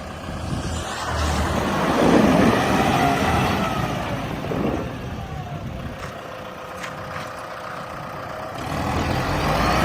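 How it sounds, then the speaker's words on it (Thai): A Kubota MU5501 farm tractor, a 2018 model fitted with a front loader, runs with a steady diesel rumble close by, swelling slightly early on before settling into an even idle, with a few faint metallic clicks. "รถไถคูปต้า MU 5501 คันนี้นะครับผม"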